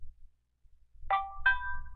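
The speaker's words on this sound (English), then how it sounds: "A text message has come in" A phone's text message notification tone plays as two quick bright chimes, the second ringing out a little longer, clear and close in a quiet room.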